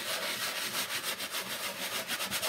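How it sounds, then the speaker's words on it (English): A sanding block rubs back and forth over chipping milk paint, a quick rhythmic scratchy rasp of repeated close strokes with no talking. "and I have to sand this away"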